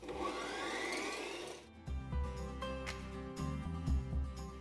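An electric mixer whips four eggs with a pinch of salt, giving a loud, dense whirring buzz for under two seconds before it cuts out and music takes over.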